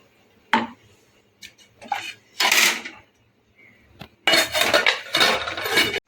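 Cauliflower and potatoes sit in a metal pot while water is added and the pot is covered. Scattered metallic clinks and clatters of utensils and a lid are followed by a longer, rushing burst.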